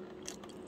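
Someone bites into and chews air-fried sweet potato drizzled with honey, a short close crunchy bite with moist chewing sounds, recorded up close with no talking.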